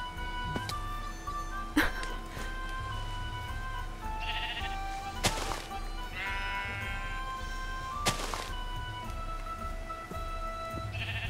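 Minecraft sheep bleat several times at spaced intervals over a steady low hum, with occasional electronic tones in the background.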